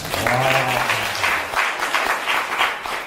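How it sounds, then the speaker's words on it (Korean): A studio audience breaks into steady, dense applause that carries for about three seconds, with a brief voice heard at the start. "박수 한번 쳐주세요."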